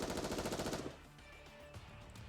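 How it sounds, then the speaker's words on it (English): Rapid automatic gunfire rips out in a loud continuous burst in the Nikke video game, then breaks off abruptly into a softer echoing tail of scattered rattles and ringing. "She proceeds to unleash a barrage of gunfire forward."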